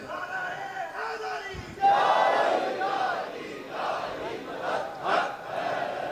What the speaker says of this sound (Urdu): بے ترتیبی اور بے تکے نعرے لگا رہے ہیں۔